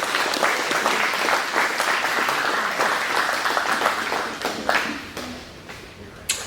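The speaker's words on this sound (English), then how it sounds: "Let's give Victoria a round of applause." An audience at the 2021 Will Rogers Medallion Award Ceremony applauds steadily, a dense wash of clapping that fills the room and slowly thins toward the end.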